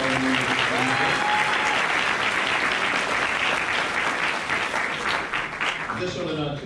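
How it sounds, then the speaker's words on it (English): At a spring recognition and white coat ceremony, an audience gives a full round of applause for award recipients, loud and sustained, then fading toward the end. "I want another round of applause for all the recipients."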